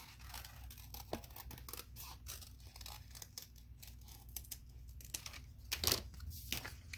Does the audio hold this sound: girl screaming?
no